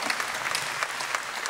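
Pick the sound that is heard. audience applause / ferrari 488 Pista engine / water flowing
audience applause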